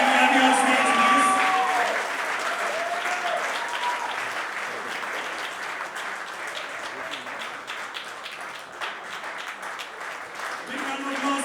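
An audience at a brand launch event applauds, a dense sustained wash of clapping that starts loud and continues steadily for several seconds.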